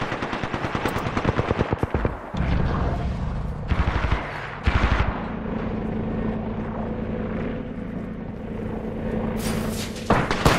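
Rapid automatic gunfire rattles in Apex Legends, loud bursts of machine-gun fire with a steady low engine-like drone underneath and brief gaps between volleys.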